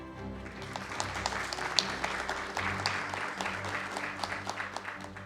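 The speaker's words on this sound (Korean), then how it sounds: "이철우 경북도지사님을 여러분 큰 박수로 맞이해 주시기 바랍니다." A forum audience bursts into sustained, dense applause to welcome the Gyeongbuk provincial governor to the stage, the clapping steady and full with a faint murmur of voices beneath it.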